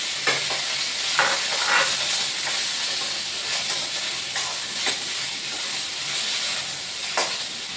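Cumin, onion and curry leaves fry in a pan with a loud, steady sizzle. Repeated scraping stir strokes come every second or so, close up, with no speech over them.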